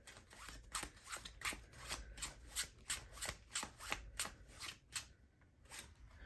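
Tarot cards being shuffled, a quick run of soft riffling flicks in a steady rhythm, close and quiet, with no voices.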